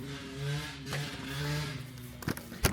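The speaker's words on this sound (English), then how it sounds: "I think Madman on his motorbike's had enough fun. Crikey, it's noisy." A motorbike engine revs nearby, its pitch climbing and falling in short rising pulls at a moderate level, followed by a couple of sharp knocks near the end.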